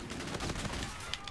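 Sniper gunfire from a video game, a dense continuous barrage of shots and impacts with no clear pauses, close and fairly loud across the whole moment.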